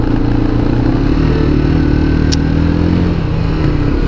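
Motorcycle engine running close by on a street in Göreme, Cappadocia, a steady loud low rumble throughout with little change, traffic-like and continuous.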